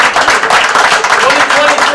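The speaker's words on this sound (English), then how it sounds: "One more time, let's give a round of applause for class" Audience applause for a graduating pre-apprenticeship class of 2023, loud continuous clapping from a crowd with some voices blended in.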